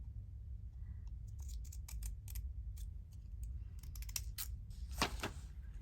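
Scissors snipping through paper ephemera at a craft table, a quick series of crisp close-up cuts with a louder final snip, quiet room otherwise.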